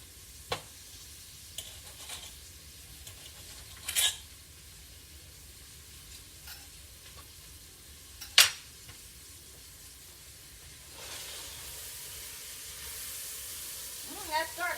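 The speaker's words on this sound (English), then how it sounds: "let them kind of saute in there" Chicken pieces and vegetables sauté in a pot for gumbo, giving a faint, steady sizzle with a few sharp clinks of a stirring utensil and light movement, all without speech.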